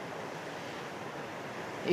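Steady roar of surf washing over rocks, broad and continuous with wind noise, swelling slightly louder at the very end.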